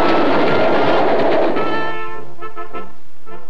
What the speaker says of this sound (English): Ski enthusiasts travel to high mountain slides in special conveyances known as ski trains.